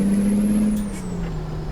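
Truck air brake in American Truck Simulator, a loud sustained hiss of released air alongside a steady low engine drone, close up with no talking.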